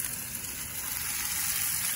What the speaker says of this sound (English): I'm just going to take these carefully, place them right inside the hot oil